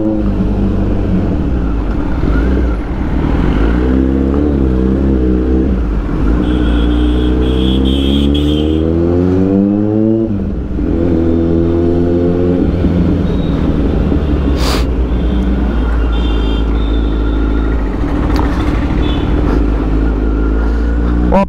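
A superbike engine revs repeatedly on a street in India, loud throttle blips rising and falling in pitch over a steady idle rumble, with several sweeping climbs and drops throughout.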